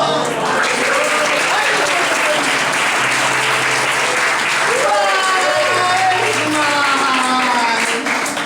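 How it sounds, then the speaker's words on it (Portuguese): Church congregation applauding loudly and steadily for the whole stretch, a dense wash of clapping with voices and shouts mixed in during a Baptist service. "Vamos aplaudir o nome do Senhor?"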